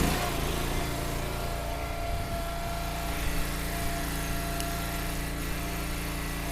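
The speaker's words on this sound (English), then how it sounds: "We'll rev it up and get to work." A small gasoline engine on a firewood splitter runs outdoors, a steady, close, loud drone with a constant low rumble and no break or voices throughout.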